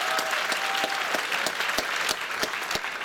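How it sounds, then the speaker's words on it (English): An audience clapping for a panel at a school writers' week event, steady applause from a moderate-sized crowd with a few sharper single claps standing out, fairly even throughout. "So one more big round of applause for our panel."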